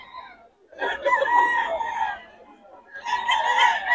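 Roosters, including solid gray and sweater gamefowl bloodlines, crow loudly and close by in two long bursts with a short gap between them, mixed with some clucking.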